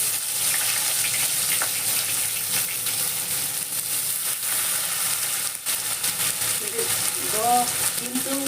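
Onion sizzles steadily in a hot pan while being cooked for a Manipuri fish curry, giving a loud continuous frying hiss with some stirring, and a voice is heard briefly near the end.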